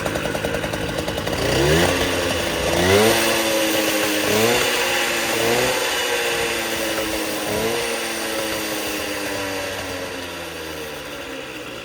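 A 1980 Puch Maxi Luxe E50 moped with its carburetor jetting unchanged runs close by with a steady two-stroke buzz, revving up and settling back several times before it idles more evenly, with no talking.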